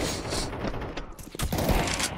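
Gunfire in the video game Counter-Strike 2, a dense burst of rapid shots over continuous game noise, loud and close throughout.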